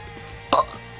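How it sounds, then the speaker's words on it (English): A single short human burp from a person streaming, a quick throaty pop in the middle of a quiet room-tone background, fairly close to the microphone. "sorry, I'm burping a lot, and I don't know why."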